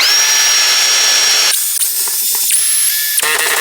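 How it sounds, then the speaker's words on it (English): A power drill whines loudly at high speed, then bites through plywood in two bursts with grinding, chattering cutting noise. "drill some straight holes"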